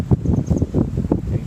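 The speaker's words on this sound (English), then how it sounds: "There's some wind." Gusty wind buffeting the microphone outdoors in Northern California during a heavy storm, low irregular rumbling bursts that rise and fall over a second and a half.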